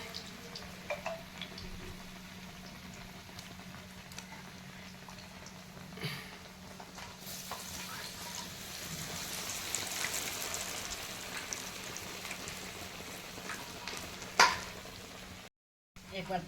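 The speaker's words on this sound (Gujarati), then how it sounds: "તેલમાં તળાવવા માંડ્યા હવે." Snacks fry in hot oil, giving a low, steady bubbling sizzle that runs throughout at moderate volume, with faint background voices and a brief clatter near the end.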